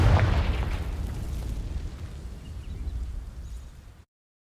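A fiery spell blast in Hogwarts Legacy strikes dry vines, giving a loud close boom at the start that fades into a rumbling, crackling burn over several seconds.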